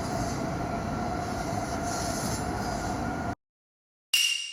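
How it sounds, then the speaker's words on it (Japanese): A Tohoku Shinkansen Yamabiko bullet train rushes past with a steady, loud rolling roar and high hiss, then cuts off abruptly before a brief bright sound resumes. "この電車は東北新幹線、やまびこ。"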